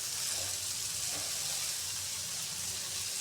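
Carrots dropped into a pan of softened frying tomatoes set off a steady, close hiss and crackle of sizzling that holds evenly throughout with no voices.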